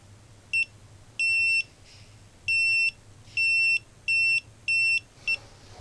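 A small distance sensor module emits short, clear electronic beeps in an irregular series, about seven tones of varying length, close and loud over a quiet room hum.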